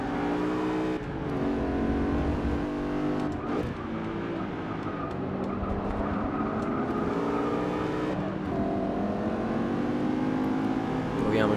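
At the start of a Forza Motorsport 6 race, a pack of race car engines revs and accelerates together into a loud, dense roar. Pitches climb and shift through gear changes as the cars surge off the line.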